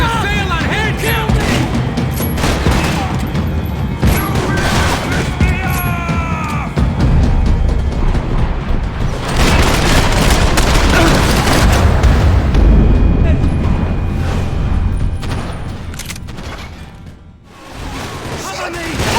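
Heavy gunfire and booming explosions from a Max Payne 3 shootout form a dense, loud, continuous barrage, with shouted character voices mixed in throughout.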